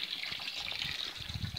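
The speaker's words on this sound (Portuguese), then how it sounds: "a bomba joga água pro filtro e o filtro joga água pro tanque" An aquarium pump pushes water through a filter and back into a roughly 200-litre fish-rearing tank, giving a steady, close gushing and trickling flow that runs continuously without pause.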